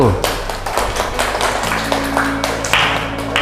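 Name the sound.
applause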